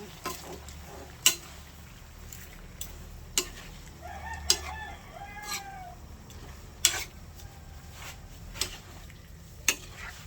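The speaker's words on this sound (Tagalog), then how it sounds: "Akin lang pong hahaluin." Ginataang kamansi with dilis stirred in a pot, a quiet bubbling sizzle broken by irregular sharp clinks and scrapes of the utensil against the pot, with a faint bird call in the background.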